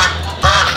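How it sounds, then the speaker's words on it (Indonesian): A single short duck quack cuts in over a low background hum, close and fairly loud. "Ini bebek."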